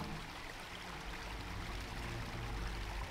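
Steady rushing stream of water pouring onto a propeller in the game Obduction, a continuous broadband wash with a low rumbling undertone, constant in level throughout.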